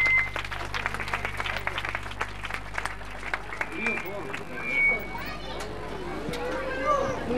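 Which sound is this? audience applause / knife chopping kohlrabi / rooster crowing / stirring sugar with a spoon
audience applause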